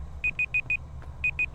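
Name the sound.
alarm in the video game Forewarned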